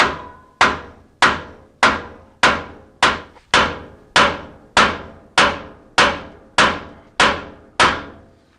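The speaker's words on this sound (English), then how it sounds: "You want to hit the thing that it goes through with your biggest hammer" Fifteen heavy, evenly spaced hammer blows ring out on a Toyota 4Runner front suspension part, each a loud metallic bang with a short ringing decay, close up and steady in rhythm.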